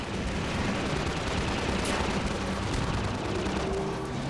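Video game gunfire rattles in a dense, steady burst, loud and continuous, with no talking.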